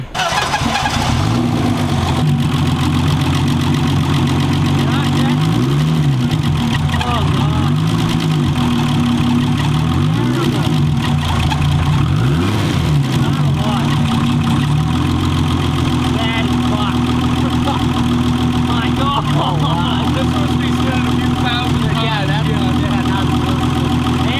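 A turbocharged BMW E30 with a broken turbo cranks, fires and settles into a loud, lumpy idle with occasional revs, while people talk over the running engine throughout.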